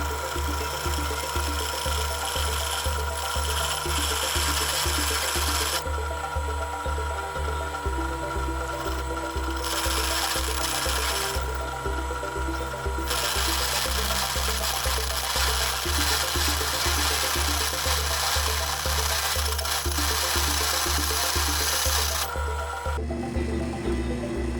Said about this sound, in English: now it's time to switch the drill bits to the larger one and see how this goes